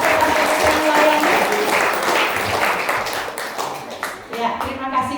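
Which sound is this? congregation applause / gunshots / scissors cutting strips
congregation applause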